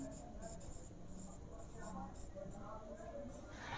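Faint marker or chalk strokes on a board as subsets are written out during a maths lecture, with a quiet scratchy rhythm under a teacher's ongoing voice.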